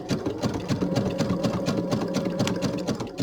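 A sewing machine runs steadily, stitching binding onto a quilt, its rapid mechanical needle rhythm close and continuous throughout with no talk.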